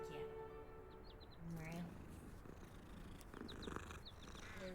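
A cat purrs softly and steadily in the video game Hogwarts Legacy, with small chirps and twittering in the background and a few brief tones over it.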